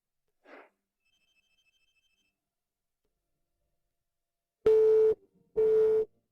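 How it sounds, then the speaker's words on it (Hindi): Two loud bursts of a phone busy tone near the end, a steady pulsed beep after a call is cut off, following a brief faint noise and near silence. "अरे चुनान, हिम्मत कैसे हुई मेरा फोन काटने की?"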